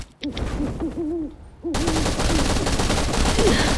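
Gunfire in the video game Last Island of Survival breaks out partway through as dense, continuous loud shooting, following a stretch of hooting, owl-like sounds at the start.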